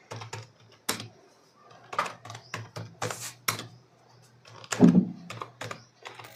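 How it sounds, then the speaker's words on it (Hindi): A name is typed on a computer keyboard in irregular bursts of sharp clicking keystrokes, close and moderately loud, with brief pauses between groups and no talk. "चलिए मैं अपना नाम यहाँ पर एंटर कर लेता हूँ।"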